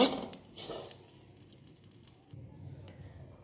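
Chillies fry in a pan while being stirred, giving a soft sizzle with a few light scraping taps that fade to a quieter hiss.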